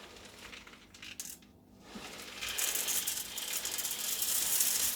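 Salt poured into the salt compartment of an Ariston dishwasher, a close granular hiss and rattle building in intensity and flowing steadily, with a few small clinks early on.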